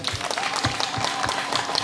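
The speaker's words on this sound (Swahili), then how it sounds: "Mheshimiwa Diwani uko hapa, makofi mengi sana kwake" A crowd at a public gathering applauds a ward councillor, a short burst of dense, brisk clapping heard from close by.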